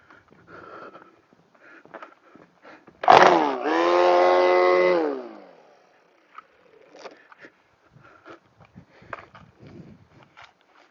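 Milwaukee string trimmer loaded with 0.095 Milwaukee string, a loud motor surge rising and running steadily for about two seconds, then cutting off amid faint outdoor noise.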